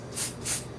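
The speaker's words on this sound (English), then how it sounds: "so we'll go ahead and spray our mold now to give that a chance to dry" Two quick bursts of mold release are sprayed into a resin mold, short hissing puffs close to the microphone with a brief gap between them.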